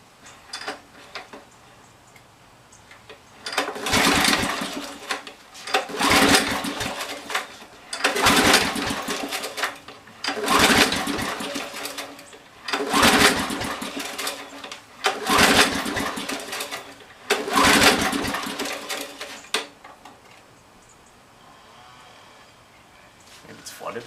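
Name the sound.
Briggs & Stratton 10 HP small engine trying to start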